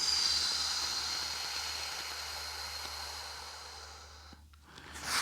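Slow, steady exhalation during a pelvic floor exercise, a long soft airy hiss close to the mic that fades out, followed by a short breath at the end.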